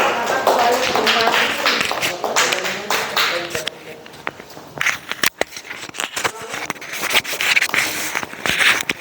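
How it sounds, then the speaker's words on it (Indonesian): Students in a classroom applaud group 3 after their presentation, scattered close claps and taps mixed with chatter and shuffling, uneven and loosely rhythmic rather than a full ovation. "Beri tepuk tangan dulu"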